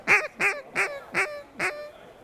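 Buck Gardner Brad's Reactor duck call imitating a baby duck: five short, bright squeaky peeps in an even rhythm, close and clear, each note sliding downward, with no talking.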